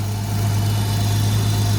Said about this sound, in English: But there's the exhaust leak over here.